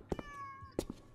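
Two short cat meows from a cat in the video game Rosemary's Fate, each a quick, fairly clear call separated by a brief pause, heard alone without talk.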